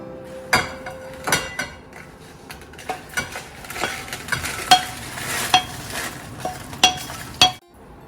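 Ingredients for chutney are fried lightly in a pan while a utensil stirs them, giving a steady soft sizzle broken by irregular scraping strokes and sharp metallic clinks against the pan, close and fairly clear, with no talking.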